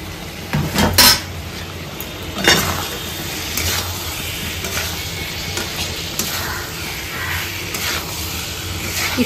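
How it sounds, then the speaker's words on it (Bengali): Pre-fried potatoes go into a pot of spiced curry for aloo dum, with clanks of a metal spoon against the pan, scraping stirs and a low sizzle, loud and close, no speech. "মশলা কষানো হয়ে গেছে, আগে থেকে ভেজে রাখা আলুগুলো মা দিয়ে দিচ্ছে।"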